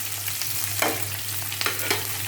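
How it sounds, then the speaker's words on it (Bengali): Green chilies, dried red chilies and onion fry in hot oil and are stirred, making a soft continuous sizzle with a few scraping stirs over a steady low electrical hum. "এখন তো তেলের ভিতর হচ্ছে মরিচ, কাঁচামরিচ, শুকনোমরিচ, পেঁয়াজ"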